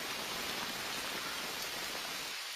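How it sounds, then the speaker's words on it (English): Steady rain falls as a dense, even hiss with no breaks, heard alone and fairly loud throughout. "Come on, let's go someplace to get out of the rain now."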